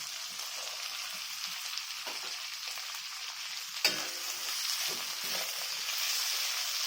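Tomato, capsicum and onion fry in a pan with a constant close sizzle and crackle, broken by a few stirring scrapes and one sharp clink midway, with no voices.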